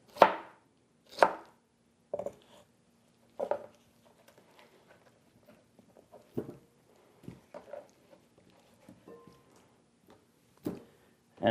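A knife cuts down the sides of a pineapple on a cutting board, giving about a dozen distinct chops and thuds at irregular intervals, some firm and close, others soft and faint, with quiet pauses between them.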